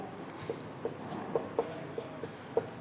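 A pen writes notes on paper during a class-10 science lesson, giving a series of small irregular scratches and taps, close and quiet, with no talk.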